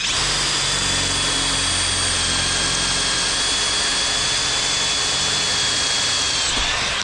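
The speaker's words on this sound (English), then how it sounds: "just drilling the corners out" A steady, loud power drill whines continuously for about seven seconds, drilling out the corners of thick blocks, with a constant high-pitched motor tone and a rumbling low end.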